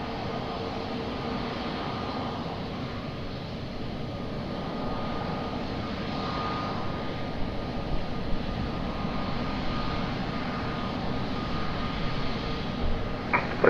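Aircraft at Lisbon Airport, a steady distant jet engine roar that rumbles on for the whole stretch at moderate loudness, with no voices over it.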